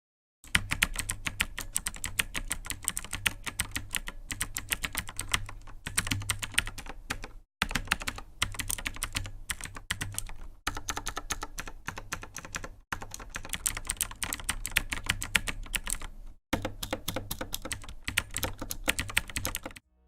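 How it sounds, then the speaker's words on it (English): Typing on a Razer BlackWidow Chroma V2 mechanical keyboard with Razer Green switches and no O-rings, a close, dense stream of sharp clicky keystrokes in fast bursts, separated by a few brief pauses. "I'm gonna do a sound test of me just, hitting on the keys and what it sounds like without the O-rings."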